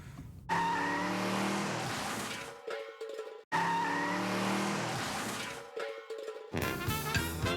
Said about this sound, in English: Canada's worst drivers ever take our limousine on a high-speed slalom run.